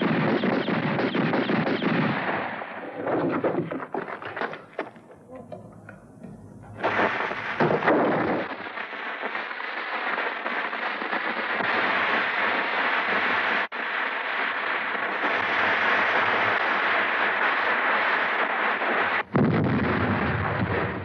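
Heavy, continuous battle gunfire with booming blasts from a Western film, loud and dense, broken by a brief lull before the shooting resumes at full intensity.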